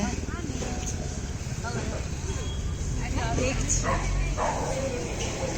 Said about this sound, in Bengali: ওমা, একটা ডগু আসছে।